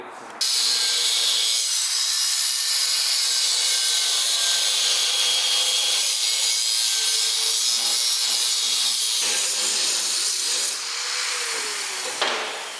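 A power tool grinds steadily through metal while installing a sway bar on a BMW E46, with a harsh, high-pitched whine for about nine seconds, briefly easing, then continuing before cutting off.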